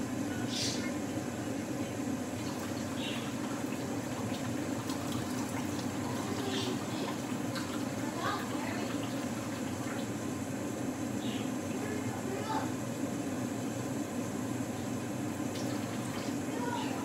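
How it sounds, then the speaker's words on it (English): A cup and a half of water pours into a cooking pot of food that is still cooking, giving a steady, soft splashing and trickling with a few drips over a continuous background hum. "So we have to add another cup of water."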